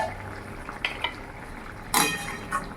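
A metal lid comes off a pot of okra and potatoes cooking over a medium gas flame, with a sharp clank near the middle, a few lighter metallic taps around it, and a soft simmer underneath.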